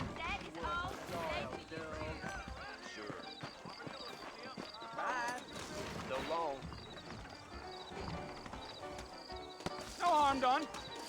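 Steady clip-clop of horse hooves at a trot in Red Dead Redemption runs beneath people talking, with game-style ambience and a brief louder knock near the end.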